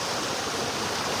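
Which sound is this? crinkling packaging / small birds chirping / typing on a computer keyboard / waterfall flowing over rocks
waterfall flowing over rocks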